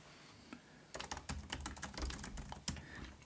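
Fast, fairly quiet typing on a computer keyboard, a steady flurry of light key clicks after a brief pause, ending with one firmer keystroke.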